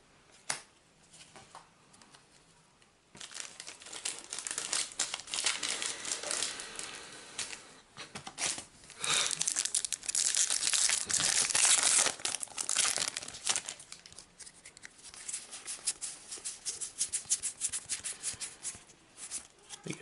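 Foil wrappers of Magic: The Gathering Khans of Tarkir booster packs being torn open and crumpled, a close, steady crinkling and rustling that swells in the middle and continues without talk.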